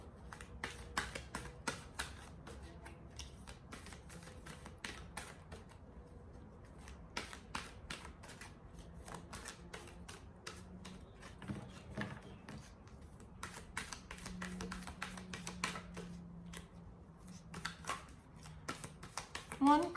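Tarot cards are shuffled and drawn by hand in a quiet room, with repeated crisp riffling snaps and soft slaps spread unevenly over the stretch, while a low voice murmurs intermittently underneath.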